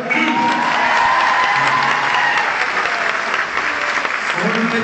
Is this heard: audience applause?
yes